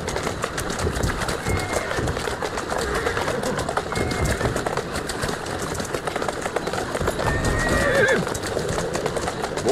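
Horse neighs and steady clip-clop hooves from Assassin's Creed Syndicate, rapid and continuous with a whinny near the end, over a busy street-ambience bed.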